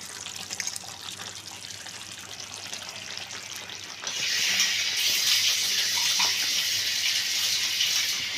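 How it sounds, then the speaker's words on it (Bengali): Rinse water from a bowl poured into a cashew and poppy seed paste for a Bengali potol posto dish, starting as a quiet trickle and swelling into a steady, louder splashing gush halfway through, with no talk. "এই বাটি ধোয়া জলটাও আমি দিয়ে দিলাম।"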